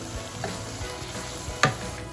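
Tomatoes for pav bhaji cook in a pan over a medium-to-high flame, giving a steady, soft sizzle and frying hiss throughout, with one brief, sharp clatter near the end.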